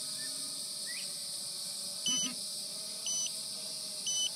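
Low battery alarm of an Autel X-Star drone, three short, evenly spaced electronic beeps about a second apart over a steady background hum and faint outdoor noise.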